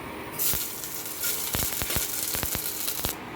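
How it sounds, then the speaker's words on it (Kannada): Mustard seeds sizzling in hot ghee for a tempering before chopped bitter gourd goes in, a steady close frying hiss punctuated by a string of sharp pops and crackles. "ತುಪ್ಪದ ಒಗ್ಗರಣೆ ನೋಡಿ ಹಾಗಲಕಾಯಿ ಹೆಚ್ಚಿ ಹೀಗೆ ಸಣ್ಣಕ್ಕೆ ಹೆಚ್ಕೊಂಡಿದ್ದೀನಿ ಸರಿ ಇವಾಗ ಸಾಸಿವೆ ಹಾಕ್ತೀನಿ"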